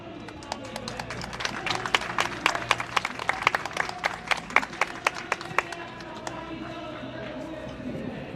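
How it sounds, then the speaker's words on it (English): Outdoor rally crowd outside the Chinese embassy in London claps in sparse, separate sharp bursts from a thin crowd, with a voice talking underneath and clapping tapering off toward the end. "give a big applause to Rabina Khan, a Lib Dem councillor from London"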